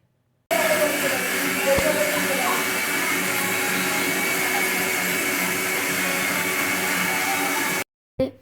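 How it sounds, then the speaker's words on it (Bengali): A mixer grinder grinding ginger and garlic runs with a loud, steady whirring roar for about seven seconds, then cuts off abruptly. "আমি মিক্সার গ্রাইন্ডারে গ্রাইন্ড করছিলাম"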